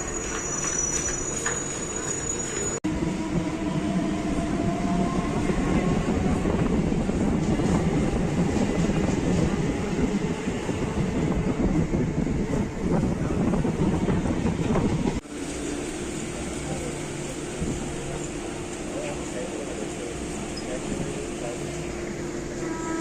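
A Chennai suburban train on the Chengalpattu to Gummidipundi run rumbles along steadily for the whole stretch, loud and close from inside the carriage. Faint voices come and go beneath the noise.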